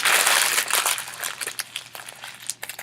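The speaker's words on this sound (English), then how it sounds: "Let's crumple it up into a ball to make the body." A large sheet of paper is crumpled into a ball by hand, a dense, close crinkling rush that breaks into scattered crackles and crunches as the ball tightens.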